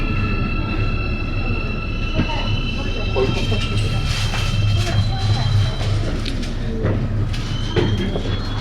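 Airport Express (AREX) train in an underground station in Korea, a steady low rumble of the train with rail noise and occasional clanks, voices talking over it throughout.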